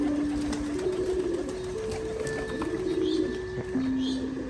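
Pigeons in a loft coo in low, drawn-out, overlapping rolls that run almost continuously, close and steady, with faint rustling and a light background hum.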